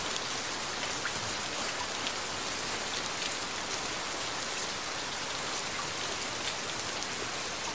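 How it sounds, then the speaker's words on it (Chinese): Steady rain pours down without a break, a dense continuous hiss of drops striking surfaces, even in loudness throughout with no voices. "这好像是我们第二次一起淋雨了，"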